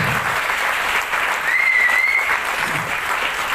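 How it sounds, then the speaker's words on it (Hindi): Loud, steady applause from a crowd at a large business function in Mumbai, filling the whole stretch with dense, continuous clapping and no speech on top. "एक बार जोरदार ताली होनी चाहिए।"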